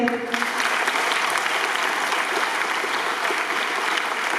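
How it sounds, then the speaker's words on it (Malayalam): Sustained applause from an audience at a school ceremony honouring Kerala School Olympics winners, dense steady clapping that is loud and close for several seconds, with some faint voices mixed in. "ഒന്ന് കൈയടിച്ചേ"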